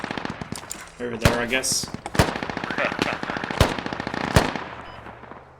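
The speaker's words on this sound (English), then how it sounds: "Fuck, we're shooting" Gunfire in the video game Squad: several sharp, loud shots and short bursts crack out over a few seconds, with a voice talking underneath.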